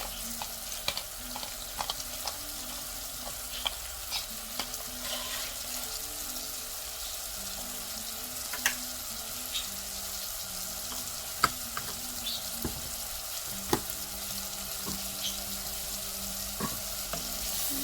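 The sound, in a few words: stirring onions frying in a pot for butternut squash soup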